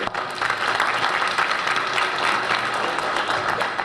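Steady applause from a crowd, dense clapping filling the whole stretch at an even, loud level.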